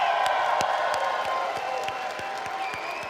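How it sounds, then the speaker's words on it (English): An audience claps for a speaker at a leadership seminar, a dense patter of many hands that stays steady and fades slightly over about three seconds. "Can we give him a huge round of applause?"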